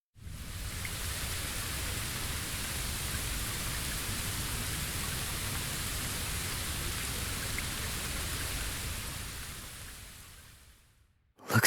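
Steady heavy rainfall in the video game BLEACH Rebirth of Souls, a constant hiss that holds evenly before fading out near the end.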